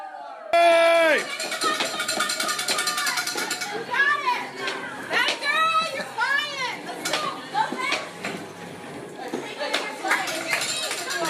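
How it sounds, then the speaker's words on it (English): Children on the red team cheer and shout at an outdoor obstacle course, a lively crowd of young voices with whoops and some clapping, continuous and close throughout. "We got red team cheering them on."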